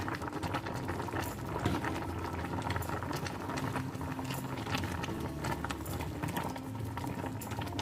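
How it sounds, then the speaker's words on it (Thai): Chicken and winter melon curry boils steadily in a covered pot, giving a dense, continuous bubbling and simmering wash that stays even and close throughout, with no voices. "แกงเดือดแล้วนะคะ"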